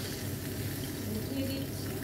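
Dried kachki fish fry in a pan, added a little at a time, giving a continuous, dense sizzle at close range with no break throughout.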